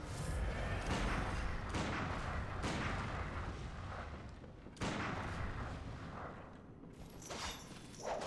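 Repeated heavy gunshots and booming blasts from a Bloodborne game fight, a few loud reports spaced over several seconds with a rumbling, reverberant tail and no talk.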